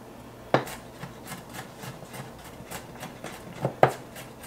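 A knife roughly chopping vegetables for salsa on a board, with a couple of sharp thunks standing out among softer, scattered cuts, faint and close.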